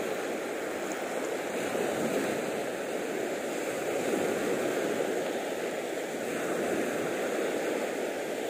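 Steady sea waves wash and hiss at a shoreline fishing spot, a continuous broadband roar with light wind buffeting and no voices.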